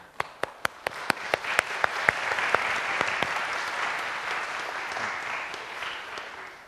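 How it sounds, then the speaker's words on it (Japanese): Audience applause for the teacher at the close of a wind band clinic session: a few sharp individual claps at first, quickly swelling into sustained, dense clapping from a sizable crowd that holds steady and fades slightly at the end, with no talking. "じゃあ先生に拍手振ります。"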